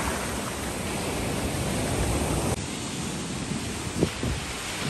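Waves washing onto a tropical beach at Anse Royale in the Seychelles, a continuous surf roar blended with wind buffeting the microphone, with a brief louder splash near the end.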